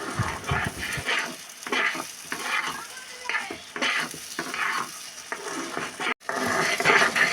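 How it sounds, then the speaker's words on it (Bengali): Drumstick (moringa) leaves sizzle and crackle in a hot pan while being stirred, with bursts of scraping and hissing coming in uneven waves, close up. "ভালো করে নেড়েচেড়ে ভেজে নিতে হবে।"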